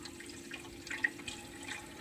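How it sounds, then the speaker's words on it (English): Cold water running from a kitchen tap over a cooked egg to cool it, a soft steady hiss of flow with a few faint splashes, fairly quiet throughout. "open the cold water, Susan, to cool the egg down"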